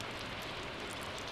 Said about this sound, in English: I can hear it raining outside.